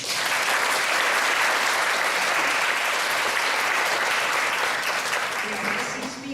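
An auditorium audience applauds in welcome of architect Robert A. M. Stern at a New York landmarks discussion event. The clapping is loud, dense and sustained, holding steady and then easing slightly near the end.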